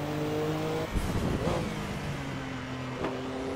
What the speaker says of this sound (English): You can hear the wastegates pop open.